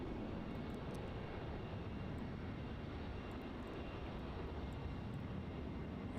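Airliner climbing out from runway 34 at Melbourne Airport, Australia: a steady, loud, broadband engine roar holds evenly throughout with no talk over it.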